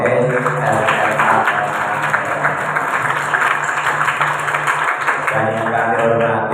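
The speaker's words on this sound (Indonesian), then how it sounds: "Tepuk tangan untuk Rohis SMA." At a Maulid Nabi gathering in Semarang, an audience claps for a high school Rohis Islamic student group, a moderate burst of applause mixed with a steady hum and crowd murmur.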